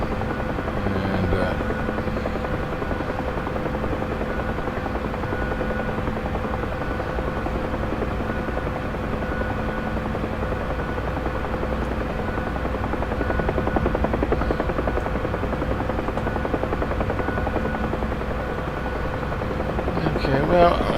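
Helicopter flying in the X-Plane 11 flight simulator, a steady close rotor thump and turbine drone that holds throughout, with a person talking over it at times.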